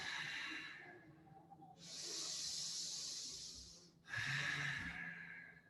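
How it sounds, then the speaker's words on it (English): Deep, slow, intentional breathing during a yoga session: two long airy breaths, each lasting about two seconds, close to the microphone with no talking. "Again, breathing quite deeply and intentionally."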